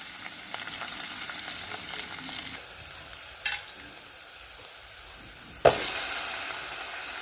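Radish pieces sautéing in hot oil make a soft, faint sizzle with light stirring scrapes, plus a brief clatter midway and a sharper clink of a utensil near the end.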